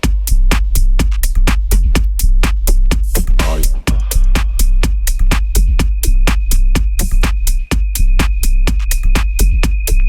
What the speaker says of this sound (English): I'm going to break down my latest minimal deep tech track